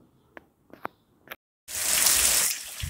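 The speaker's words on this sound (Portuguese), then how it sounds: "Aí a chuva hoje na Caucaia." Early-morning rain at 5:20 in São Miguel, Caucaia, starting abruptly as a loud, hissing downpour after a few scattered drips and taps, then continuing steadily and close by.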